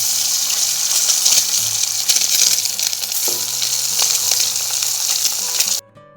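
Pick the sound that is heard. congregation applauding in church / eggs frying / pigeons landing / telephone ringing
eggs frying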